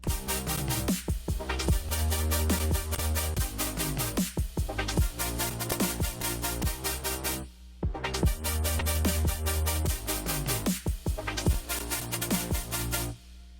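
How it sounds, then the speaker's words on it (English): Bright, layered future bass synth chords pulse in a repeating pattern with punchy drum hits and pitch-sweeping notes, loud and full, looping twice. "how to make a future bass synth sound like"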